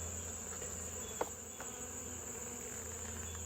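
Honey bees hum steadily around an open hive during an inspection of comb and eggs, a soft continuous insect drone with a brief tap partway through, no voices.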